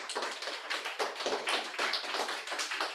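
A group of children claps together in a class, a dense run of quick, fairly loud palm claps in uneven bursts lasting the whole stretch.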